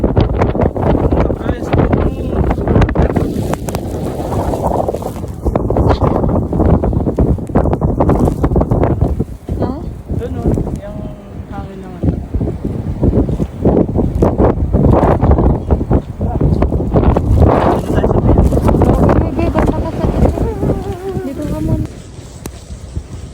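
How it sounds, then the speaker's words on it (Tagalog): Strong winter wind in Canada buffeting the microphone outdoors, a loud continuous roar with gusting surges, while a person speaks underneath. "lakas ng hangin."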